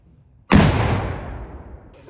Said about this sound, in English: Cannon firing, cover your ears.